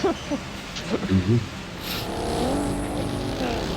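A car approaches in a video game, its engine rising to a steady growl and tire noise building toward the end, beneath a man's speech at the start.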